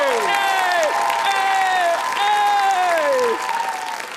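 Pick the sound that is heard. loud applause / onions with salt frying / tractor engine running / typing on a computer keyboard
loud applause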